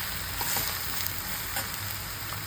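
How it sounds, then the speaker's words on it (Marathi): Ridge gourd slices stir-fry in a pan for a Khandeshi bharit, giving a steady, close sizzling hiss with faint scrapes as the pieces are tossed, and no voices over it. "आणि परतून घेऊया खालीवर."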